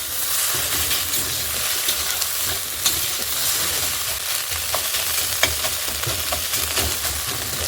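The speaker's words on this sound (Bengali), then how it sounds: "ডিমটা এভাবে খুন্তি দিয়ে এভাবে ভেঙে দেবো, তাহলে সুন্দর ভাজা হবে" An egg sizzles in a hot pan while a spatula breaks it up, steady frying hiss with frequent scraping taps and clicks of the metal spatula, close and continuous without speech.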